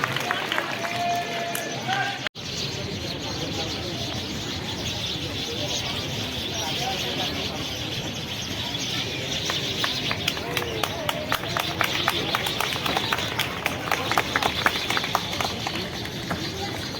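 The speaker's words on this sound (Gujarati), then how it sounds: "તાળીઓના ગડગડાટથી વધાવી દઈએ." An audience applauds to welcome a guest at a Hindu temple consecration ceremony, a dense, sustained clapping that fills the whole stretch, with a brief cut near the start and voices mixed in.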